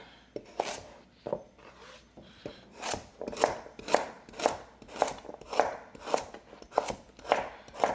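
Knife chopping the ends off vegetables on a cutting board for a roasted poblano potato soup, a dozen or so crisp, evenly spaced close thuds that grow firmer toward the end.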